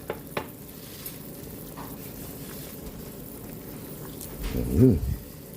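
Chili leaves dropped into a pot of simmering chicken tinola, a soft steady bubbling and light sizzle with a brief stirring clatter near the end and a couple of small knocks at the start.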